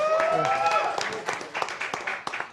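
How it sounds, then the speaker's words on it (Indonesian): Audience applause for Manchester City fans at a live Indonesian football talk show, scattered claps rising under and after talk. "Tepuk tangan buat fan City."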